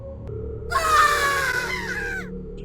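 A sudden loud monster scream bursts in from a quiet, low-humming game scene in It Moves, a shrill wavering shriek lasting about a second and a half before trailing off, with nobody talking.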